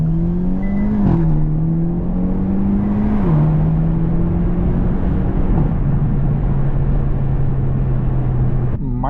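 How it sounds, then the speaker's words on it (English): A Hyundai Elantra N on a race track, heard from inside as its engine drones loud and steady, the pitch climbing and dropping sharply at several gear shifts, with a brief burst near the end. "So I'll try to accelerate and see if I can shift on time."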